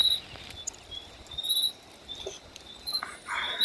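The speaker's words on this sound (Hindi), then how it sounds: "बारिश बहुत हो रही है रात से" Heavy rain falling before dawn outside a farm cowshed beside an empty highway, a steady faint patter in the background with scattered chirps and squeaks, no one speaking.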